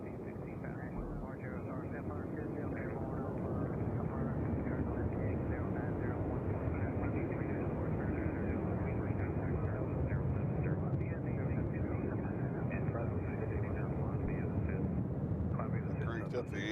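An airliner taking off at Nashville International Airport, a steady distant engine roar held throughout, with a voice talking over it.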